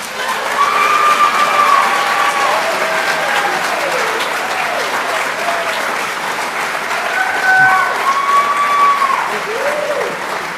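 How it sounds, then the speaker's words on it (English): An audience at a spring nurse pinning ceremony claps loudly and continuously for the nursing graduates, with cheers and scattered whoops rising above the steady applause. "So, we can't clap enough tonight."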